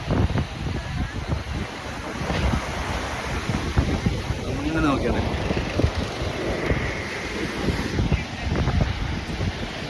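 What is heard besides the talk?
sea waves at Thalassery beach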